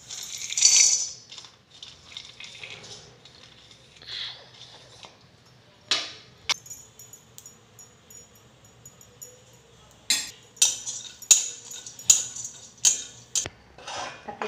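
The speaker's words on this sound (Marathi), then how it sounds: "अशाच पद्धतीने आपले काजूही भाजून घेऊया।" Cashews being dry-roasted in a pan for a date and dry-fruit barfi, heard as scattered light clicks and rattles of nuts and a spatula against the metal, sparse at first then in quicker bursts, close, with no talking.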